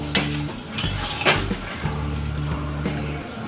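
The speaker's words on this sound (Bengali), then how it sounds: "সেদ্ধ করা কাবলি ছোলাটা এর মধ্যে দিয়ে দিলাম একসঙ্গে ভালোভাবে এখন" Boiled kabuli chickpeas stirred into a frying spice masala, a soft sizzle under repeated spoon scrapes and metallic clinks against the pan, with a low hum running beneath.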